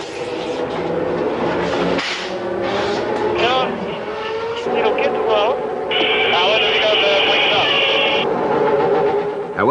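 Formula One cars out for qualifying practice, whining engines rising and falling as they pass while a commentator talks over them.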